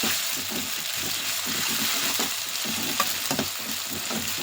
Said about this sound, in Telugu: ఇది కొంచెం పచ్చివాసన పోయేంత వరకు ఆయిల్లోనే ఫ్రై చేసుకుందామండి